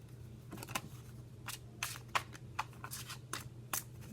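Quiet tarot cards being shuffled by hand, a string of soft papery riffles and flicks in irregular bursts, close and faint, with no voices.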